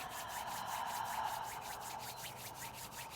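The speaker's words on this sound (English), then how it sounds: "placing the palms together and rubbing the palms" Bare palms rub together during a garden meditation, a soft continuous swishing friction with faint rhythmic strokes, quiet and close with no talk over it.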